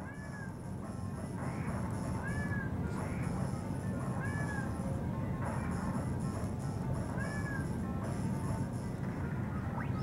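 Several high, tonal cat meows from video game cats repeat over a dense, steady noisy game soundscape with low rumbling effects throughout.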